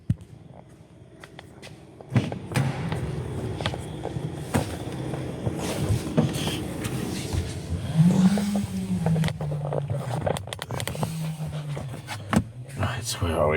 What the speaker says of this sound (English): and then we'll crank it and see